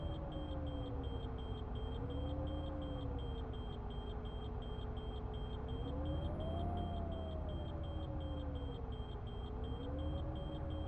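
A bus drives along the road with a steady low rumble, its engine tone slowly rising and falling as it moves, heard from inside with no one speaking.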